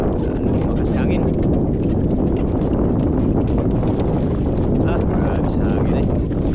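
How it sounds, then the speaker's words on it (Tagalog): Strong wind buffets the microphone on a fishing boat at sea, a loud, constant roar of gusts and engine rumble with no break across the whole stretch. "Mas lalong lumakas yung hangin."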